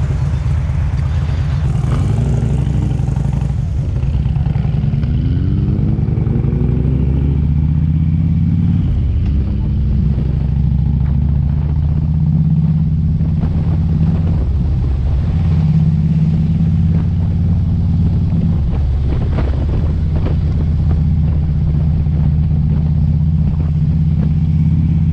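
A Harley-Davidson motorcycle with an upgraded cam rides along, its loud, deep engine drone continuous throughout, with shifts in pitch as it changes speed and heavy wind rumble.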